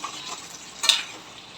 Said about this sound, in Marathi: पाच मिनटं झालेलं आहे आता फिरवून घेऊया आपण